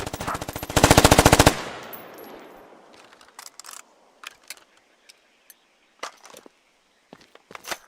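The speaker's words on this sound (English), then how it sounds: "Automatic riflemen and machine gunners carry a machine gun like this to the field." Machine gun in the video game Squad fires a fast burst of rapid automatic shots for about a second, followed by a fading echo and scattered mechanical clicks and rattles.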